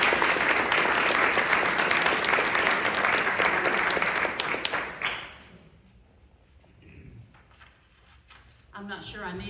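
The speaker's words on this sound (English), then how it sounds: "Clap it up for them as they come forward." A crowd at a 2021 literary competitions awards ceremony claps loudly and steadily for about five seconds, then the applause tapers off into a quiet room before a voice begins speaking.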